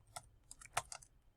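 Mouse clicks in CAD software: a few sharp, quiet taps spaced irregularly, with one stronger click near the middle, alone against near silence.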